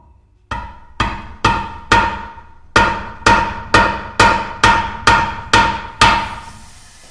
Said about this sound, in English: Carefully punch a hole into the funnel glass with a hammer and a screwdriver.